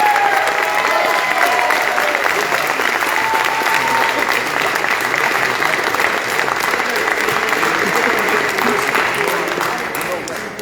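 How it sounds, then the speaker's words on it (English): Audience at a Rhode Island gubernatorial debate at Rhode Island College applauding the candidates, a dense, sustained wash of many hands clapping that fades slightly at the end, with no talking. "Now please applaud your candidates."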